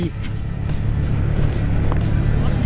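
A motorhome rolls fast downhill. A steady road and engine rumble with wind noise fills the cabin, and voices are faintly present.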